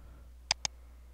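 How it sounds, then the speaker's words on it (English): Two quick, faint computer mouse clicks in close succession, a sharp double tick over a low steady hum. "So what you have to do is right click it, press uninstall."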